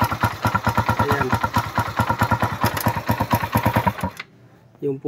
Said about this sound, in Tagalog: Pakinggan natin yung makina dahil maingay yung makina nito